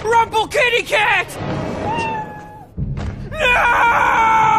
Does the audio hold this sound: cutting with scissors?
no